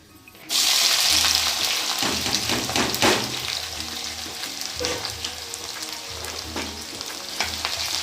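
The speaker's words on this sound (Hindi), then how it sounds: "प्याज के लच्छे खुलने तक चला लेंगे इसको" Onion rings fry and get stirred in hot oil over a high flame, a loud continuous sizzle that starts suddenly and runs steadily, with soft scraping from the stirring underneath.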